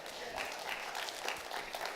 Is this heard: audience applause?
yes